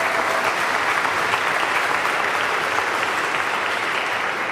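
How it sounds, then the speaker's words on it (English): Loud, dense applause fills a school commencement ceremony, a continuous steady roar of many hands clapping with no break. "Let's give her a round of applause."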